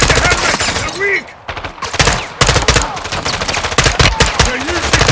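Rapid gunfire from Call of Duty: Modern Warfare II, with repeated loud close shots and bursts firing in quick rhythm during a combat firefight with vehicles, broken by brief pauses.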